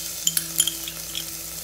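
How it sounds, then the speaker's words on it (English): Ginger and green chili paste sautéing in a pan while cooking spinach khichdi, a soft steady sizzle with a few light clinks of a spoon stirring against the pan, close and fairly quiet. "we'll let this saute for 2 minutes"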